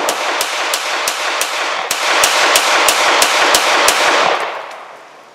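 An Inglis No. 1 Hi Power pistol with an extended magazine fires about fifteen sharp, loud shots in a quick, steady rhythm outdoors, followed by a fading echo.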